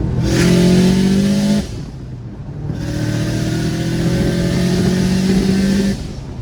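A tuned Subaru WRX bugeye engine revs hard toward redline in second and third gear, loud and close, with a brief drop between two sustained climbing pulls.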